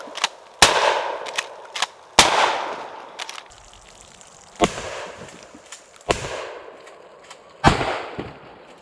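Several loud, sharp firearm shots strike plastic jugs set on a table outdoors, arriving singly at uneven intervals with short decays and quieter clatter between them.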